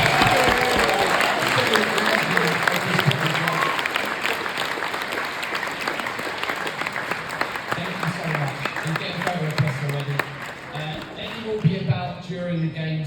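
Tottenham crowd applauds and cheers for Ledley King, sustained clapping filling the room with some voices mixed in, tapering slightly toward the end.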